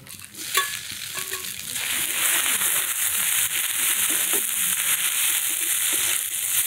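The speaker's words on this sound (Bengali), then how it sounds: "এখন এই অল্প একটু কাটা মাছ মাছটুকু কড়াইতে দেব" Chopped fish frying in a kadai, a strong close sizzle that builds after a few sharp stirring knocks and then holds steady and loud.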